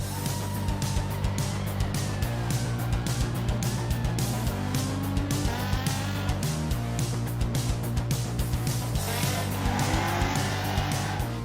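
At a grassroots drift competition at Apple Valley Speedway, a drift car's engine revs and bounces off the limiter while its tires squeal in long howls, loud and continuous, rising and falling as it slides through the course.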